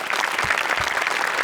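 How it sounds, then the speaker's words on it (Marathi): Dense, loud audience applause in a television comedy show studio, continuous clapping filling the whole short stretch without a break. "मोठे आणि भूषण शेलार दोघांसाठी प्रचंड टाळ्या."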